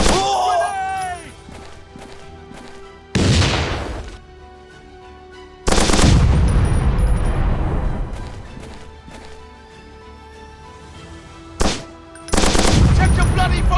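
Assault rifle and machine gun fire from a shooting video game erupt in several loud sustained bursts, separated by quieter stretches and a short sharp crack.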